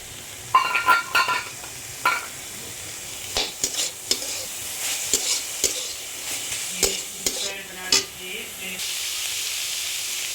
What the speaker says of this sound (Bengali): আমি এটার মধ্যে একটু ভেজে গুঁড়া করে নিচ্ছি